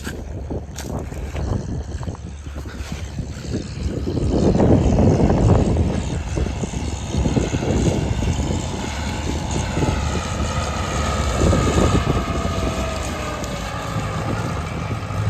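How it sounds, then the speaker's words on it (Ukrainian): A heavy tractor engine rumbles nearby in a field, swelling louder midway as the tractor draws closer, then settling into a steady low drone. "Зараз трактор йде."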